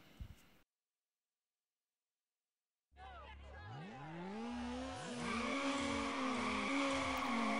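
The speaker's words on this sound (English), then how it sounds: "first we start with a drift" Midway through, a Need for Speed Underground car with stage 2 parts and traction control revs hard, engine pitch climbing through the gears, then drifts with loud sustained tire squeal; brief noise then silence come first.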